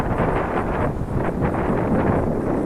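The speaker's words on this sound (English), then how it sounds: "That was a gust." A strong wind gust blows across an outdoor field where a small Eachine Mini Mustang P51D model plane is flown, a steady roaring rush buffeting the microphone with no talk.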